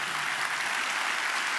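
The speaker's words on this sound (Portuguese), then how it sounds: "E vamos aplaudir o Senhor." A church congregation applauds at a televised evangelical worship program, a steady wash of dense clapping from many hands, moderately loud and continuous without any talking.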